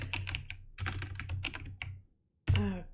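Rapid clattering on a computer keyboard during an online game tournament broadcast, close and busy keystrokes in bursts, a brief silent pause, then more typing resuming.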